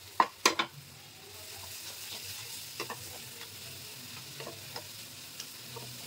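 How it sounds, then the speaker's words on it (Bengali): Onions frying at medium heat in a generous amount of mustard oil for a prawn bhuna curry, with a soft steady sizzle, a few loud near stirring clatters at the start and occasional light spatula taps. "পেঁয়াজটা কতক্ষণ ফ্রাই হোক"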